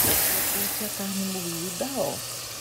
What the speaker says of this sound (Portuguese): Deixa queimar um pouquinho esse alho aqui,